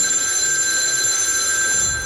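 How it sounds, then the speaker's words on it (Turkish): A telephone rings inside a Minecraft game, a loud, steady electronic ring with high sustained tones filling the whole moment. "Bir dakika telefon çalıyor."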